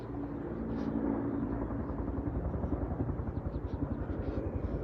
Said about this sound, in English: there's helicopters you can hear on the other side